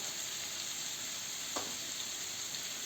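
Boiled green beans frying in butter in a pan, a constant close sizzle with one brief clack of stirring near the middle.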